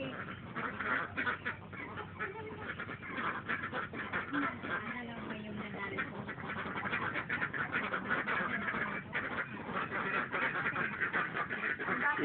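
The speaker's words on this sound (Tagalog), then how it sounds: "Itik, pato." A flock of ducks quacking continuously in a farmyard, with many overlapping honking calls at close to mid distance over a steady low-fidelity background, lasting throughout without clear speech.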